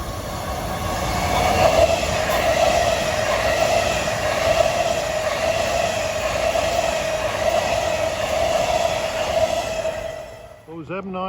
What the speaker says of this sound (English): Those M9s was train 4367 from Hall Yard to West Side Yard in Manhattan